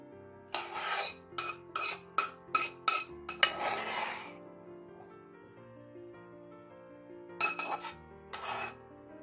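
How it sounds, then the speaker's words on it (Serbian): Toasted semolina scraped from a metal frying pan into a bowl with a utensil, a quick run of sharp ringing scrapes and clinks, a pause, then two more scrapes near the mic. "Sad ćemo ovaj griz, znači, da prebacimo ovako iz ovog tiganja ovdje."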